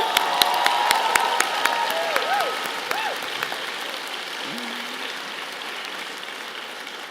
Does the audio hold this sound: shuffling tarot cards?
no